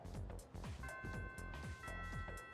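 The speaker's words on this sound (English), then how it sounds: "The first bell has rung." A school bell chimes with sustained ringing tones in the video game Persona 3 Reload, sounding twice over a rhythmic background music track, fairly quiet and with no talking.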